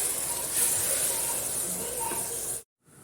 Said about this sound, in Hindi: आधा कप ऑयल डाल दिया और इसमें ये ऑनियन चले जाएंगे, प्याज चले जाएंगे, जिसको मैं गोल्डन फ्राई करूँगी इसके अंदर।